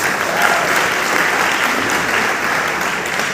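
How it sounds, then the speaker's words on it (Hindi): A crowd at a business event in Kolkata gives a loud round of applause for the management team, a thick, even wash of clapping heard throughout. "मैनेजमेंट टीम में सभी लोगों के लिए एक जोरदार ताली होनी चाहिए।"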